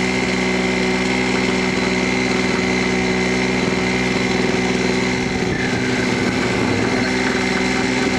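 A steady, loud mechanical hum of a pump running continuously as it draws out the last of the fluid, with a slight change in tone near the end as it begins sucking dry.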